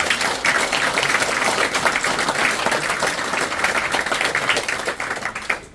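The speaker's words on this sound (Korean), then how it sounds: "모두 함께 격려하고 응원하는 뜨거운 박수 부탁드립니다" Warm applause from the audience at a Korean press freedom declaration anniversary ceremony at the Press Center, dense sustained clapping at a loud, even level from start to finish.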